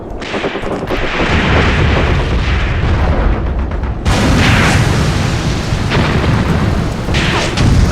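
A tank hit and burning in a video game World War II tank battle in Tunisia, 1943: loud, continuous roaring explosions and booms, with a sharp new blast surge midway, and no talking.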